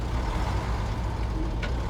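A truck rolls along a prairie road in a radio drama sound effect, a continuous heavy low rumble with engine drone, loud and near, with a faint hiss of air near the end.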